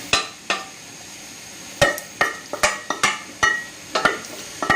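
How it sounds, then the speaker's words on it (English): Diced washed potatoes dropping into a saucepan for leek and potato soup, a run of crisp knocks and clatters arriving irregularly at close range, with no talk. "we're about to add in our washed potato"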